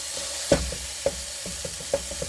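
Three pounds of ground beef frying in a pan for taco meat, a soft steady sizzle with a few distinct clinks and scrapes of a utensil against the pan, close up and without speech.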